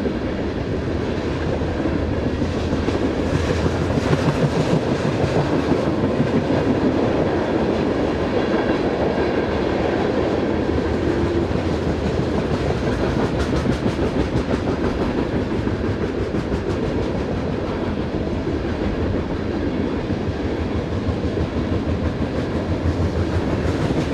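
A freight train with an SD70ACE locomotive working as a rear distributed power unit rolls steadily past, a continuous close rumble with rhythmic wheel clatter on the rails and no voices.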